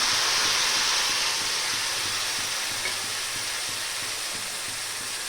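A squashed small tomato sautéing in sesame oil with a peppercorn, giving a continuous even sizzle that stays loud and steady throughout, with no voices.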